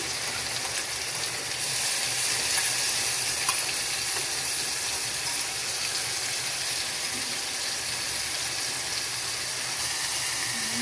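Onion paste fries in oil with a steady, even hiss and soft bubbling, continuous and unbroken at moderate loudness.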